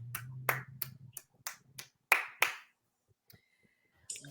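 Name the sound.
hand clapping, applause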